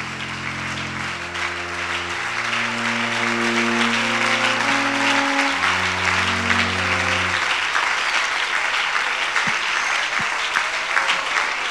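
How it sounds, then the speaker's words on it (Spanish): Standing worshippers at an evening church service clap freely and continuously, a broad wash of applause layered over held keyboard chords that fade out, leaving the clapping alone with a few sharper claps near the close. "Puede aplaudirlo con más libertad."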